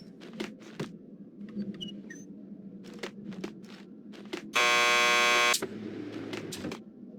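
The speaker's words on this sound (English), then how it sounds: "Just press the buzzer by the door." A door buzzer in the video game Max Payne 2 gives one loud, steady electronic buzz lasting about a second, standing out over quieter footsteps and ambient game noise.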